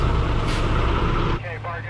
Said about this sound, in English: Get started and take your parking brake off.